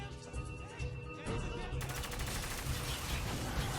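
Rapid gunshots in an Uncharted shootout, a steady loud stream of firing with crashing, shattering texture as windows are shot out.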